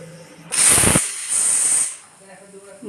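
A pressure cooker on a gas stove, cooking biryani, releases a loud steam whistle that jets out in two strong hissing bursts over about a second and a half before fading to quieter background.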